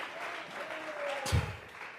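Church congregation clapping hands together as an offering of praise, a soft, diffuse wash of applause from many people across the room, with a brief louder swell near the end.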